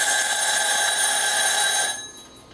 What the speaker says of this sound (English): So I took them out 10 seconds before the timer went.